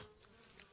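Wild honeybees around a hive in the early morning near blooming chestnut flowers, a faint, steady buzzing drone with a brief louder pass near the end.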